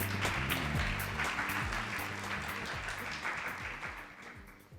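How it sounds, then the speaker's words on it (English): An audience at an offshore wind summit in Asia Pacific claps to welcome a speaker, a dense, sustained burst of many hands that holds steady and tapers slightly toward the end. "Please give her a round of applause."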